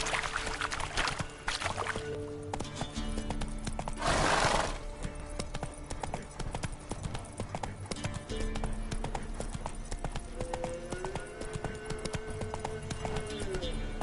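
Roach, a horse in The Witcher 3, with steady clip-clopping hooves and a short neigh, heard under game music and occasional spoken dialogue.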